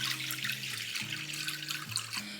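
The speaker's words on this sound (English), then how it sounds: "I'm gonna add 600 grams of lukewarm water" Lukewarm water is poured into a bowl sitting on a kitchen scale for sourdough bread dough, a continuous close splashing trickle with a faint steady hum underneath.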